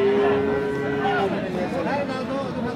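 Cattle moo at a busy weekly livestock market selling Friesian and crossbred bull calves in Dinajpur, with one long low moo up close and further calls overlapping amid crowd noise and talk.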